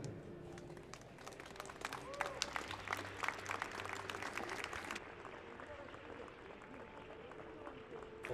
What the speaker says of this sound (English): Please, your applause for Lithuania's Rameda Buchenschieter.